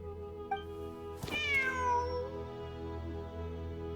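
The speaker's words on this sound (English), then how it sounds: "Wait, there it is! The cat!" A cat in the Genshin Impact video game lets out a single clear, drawn-out meow that rises and then falls, heard alone over a steady hum of game background music.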